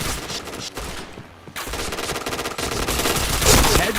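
Rapid automatic gunfire in the shooter game PointBlank, loud close bursts that run almost continuously with one short pause.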